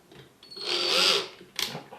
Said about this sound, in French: je positionne ma perceuse, bien sûr j'ai une mèche pour l'acier